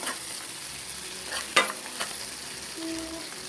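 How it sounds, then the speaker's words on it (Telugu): Carrots frying and being stirred in a pan for egg fried rice, a soft steady sizzle with a sharp spatula scrape partway through and a few light clinks, close, with no talking. "ఇప్పుడు ఇందులో ఇంకా ఫ్రై అవ్వాలి, ఎందుకంటే ఈ క్యారెట్ అనేది రోస్ట్ కావాలి."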